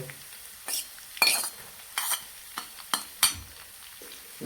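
Garlic and chillies frying in a pan while being stirred, a soft background sizzle punctuated by repeated sharp metal spoon scrapes and clinks against the pan, close and without speech.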